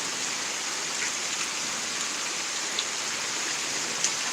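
Heavy rain pours down steadily during a Pittsburg, Kansas thunderstorm, a dense continuous hiss with no thunder or voices, broken only by a couple of faint ticks.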